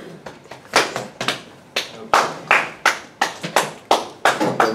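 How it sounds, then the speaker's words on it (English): Classroom applause for a student called up to the front during a physics lesson on momentum: uneven, loud bursts of hand clapping from a small group, with sharp individual claps rising and fading across the room. "Round of applause for Garfield."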